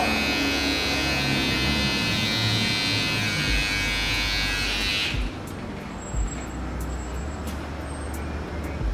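Electric hair clipper trimming the neckline in a barbershop, a loud continuous motor buzz for about five seconds that cuts off abruptly, followed by quieter room noise and faint clicks.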